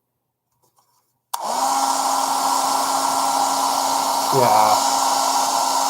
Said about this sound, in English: This is a hair dryer that one of my students gave me.